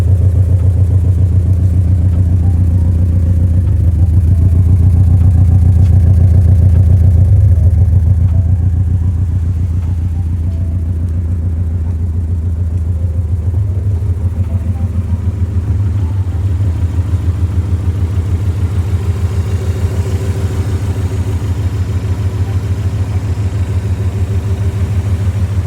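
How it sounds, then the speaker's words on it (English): A car engine idles steadily close by, a deep continuous rumble with a faint rhythmic clatter, slightly louder at first and then settling to an even drone, with no voices. "I'll even leave a clip of the car running in the video"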